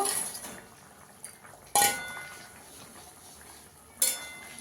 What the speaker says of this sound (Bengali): এবার এই পনিরটা দিয়ে দেব